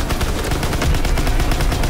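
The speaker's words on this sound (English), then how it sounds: "Ooh, this is the grease gun." Grease gun submachine gun firing in a World War 2 video game, a dense rapid burst of close, loud automatic shots running throughout.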